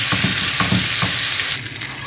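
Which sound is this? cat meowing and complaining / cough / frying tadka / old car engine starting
frying tadka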